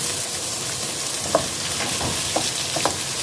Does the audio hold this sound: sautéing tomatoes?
yes